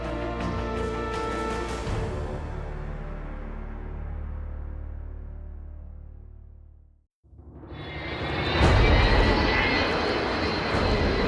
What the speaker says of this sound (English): The Vulcan was designed by Roy Chadwick, the man who had previously brought us the Lancaster